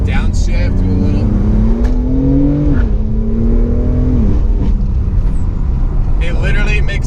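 BMW M4 engine revving on a downshift while driving, heard from inside the cabin as a rising then falling engine note with a quick blip, steady loud road and engine roar underneath, and someone talking over it.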